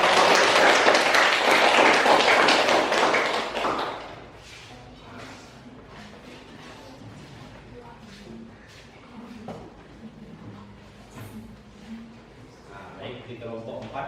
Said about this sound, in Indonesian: silakan kembali berikan tepuk tangan dulu pada